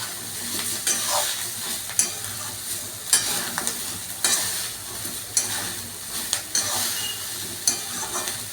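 Grated ginger and two green chillies sizzle in oil in a pan while being stirred, a steady fry hiss punctuated by regular scraping strokes of the spoon about once a second.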